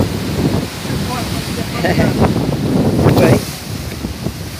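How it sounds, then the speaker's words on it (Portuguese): Wind blowing outdoors beside the water, a loud rough buffeting against the microphone with some faint watery wash, and a brief spoken word in the middle. "tá vendo o ventinho"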